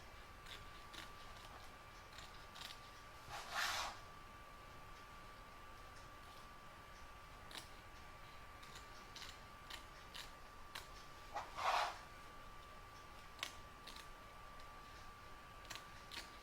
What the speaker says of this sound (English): We're now going to trim up all the excess batting, fabric and stabilizer.